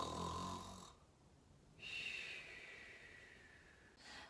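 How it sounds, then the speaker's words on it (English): Santa Claus snores while fast asleep in a barn, slow faint breathy snores repeating alone in quiet. "Inside the barn, Holly found Santa Claus fast asleep and couldn't help but giggle at his snoring."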